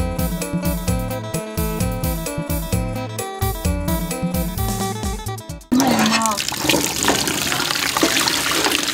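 Music plays at first, then breaks into loud running water as raw sea shrimp are washed under a stream, a steady close splashing rush to the end.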